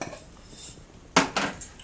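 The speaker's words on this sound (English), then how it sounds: "Now I'm going to add some fenugreek seeds." Fenugreek seeds for a homemade herbal cold remedy tip into a pot with a sharp clatter, followed moments later by a second rattling scatter, close and fairly loud after a quiet stretch.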